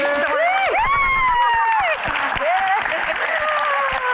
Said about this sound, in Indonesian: Kayaknya kita harus kasih tepuk tangan yang lebih meriah lagi.